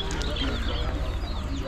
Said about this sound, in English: Sometimes on these small chicks, they'll put more of them in a cage.